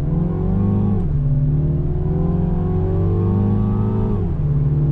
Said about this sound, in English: do a little acceleration test on throttle